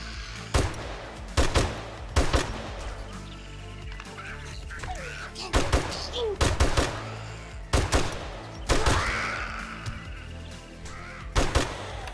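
Gunfire in the zombie survival game 7 Days to Die: loud, close single shots in irregular bursts, roughly a dozen over the stretch, with pauses between, plus scattered creature and ambient sounds.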